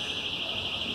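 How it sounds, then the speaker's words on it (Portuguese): An alarm going off near construction works: a steady, piercing electronic tone that sounds continuously for about a second at moderate loudness, with faint background noise underneath. "peço desculpa pelo barulho, temos aqui obras aqui do lado, está disparando alarme"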